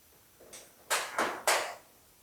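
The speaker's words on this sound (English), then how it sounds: "Click, click, and the door shuts." A gently closed door on a 1940 Ford coupe-inspired custom build with a hand-shaped door skin latches shut in three crisp clicks after a soft initial bump, close up and quiet.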